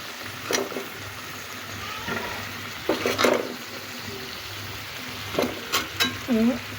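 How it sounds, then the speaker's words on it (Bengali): Pointed gourds (potol) go into hot oil in a pan with a gentle frying sizzle, broken by occasional clatters and scrapes of stirring, some of them louder. "এখন আমি পটলগুলোকে দিয়ে দেবো।"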